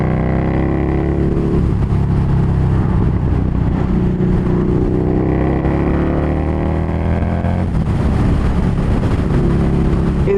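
A Harley-Davidson Street Rod 750 motorcycle engine drones loudly and continuously while riding, its pitch sweeping upward through the gears with a shift break, close and steady with no talk.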